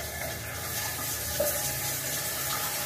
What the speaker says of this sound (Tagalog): Now we'll open the valve. We'll open this valve.